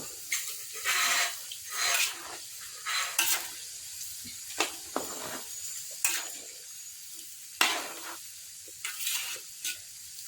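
Pork fat sizzles in a hot frying pan, a steady crackle broken by repeated scraping stirs and bright spatters.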